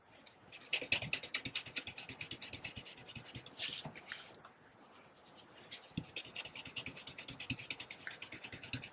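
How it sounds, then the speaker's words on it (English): A blending brush dabs and rubs Balmy Blue ink onto the corners of a handmade card, a close, rapid run of soft scratchy taps and brushing strokes with a brief pause midway. "I'm just going to take some of that Balmy Blue in my blending brush again, and I'm just going to hit all these corners."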